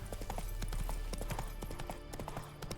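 Roach the horse trots along in The Witcher 3, a quick uneven run of hoof clip-clops up close, with faint game ambience underneath.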